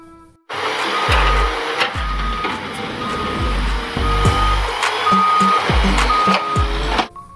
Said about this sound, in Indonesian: Ada mobil truk pasir.